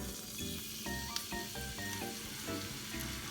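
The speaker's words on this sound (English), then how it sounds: "I put generous amount of oil so that I can fry my fish. My pan is really hot, so I can put this right here." Thin flounder fillets sizzle steadily in generous hot oil in a pan, a continuous close frying hiss with a few faint clinks of a utensil and no talking.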